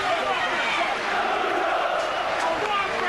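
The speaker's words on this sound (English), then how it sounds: "Chants of Bruno, Bruno, from this very healthy-looking crowd" A packed stadium crowd at Wembley on a boxing night chants for Frank Bruno, a dense, steady roar of many voices filling the air without pause.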